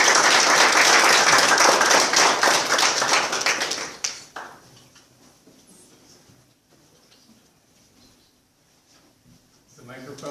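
Loud audience applause welcoming a wildlife lecturer at an evening lecture, a dense burst of clapping for about four seconds that drops off sharply into quiet room sound with faint murmurs.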